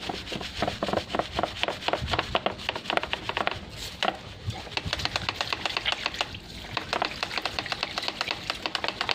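A brush is scrubbed briskly back and forth against a tree-cutting trunk, making rapid, close, rhythmic rasping strokes with a brief pause midway.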